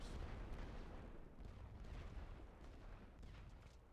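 Artillery bombardment in the video game The Great War: Western Front, a steady rumbling barrage of low booms and distant gunfire rolling continuously at moderate level, with no clear single blasts standing out.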